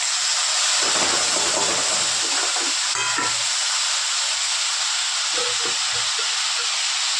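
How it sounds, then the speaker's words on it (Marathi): Curry leaves, asafoetida and tomato fry in hot oil after mustard seeds crackle, making a continuous loud sizzling hiss with a few soft clinks and stirring bumps. "राई तडकल्यानंतर कढीपत्ता, हिंग, टमाटर"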